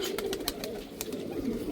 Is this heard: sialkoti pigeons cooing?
yes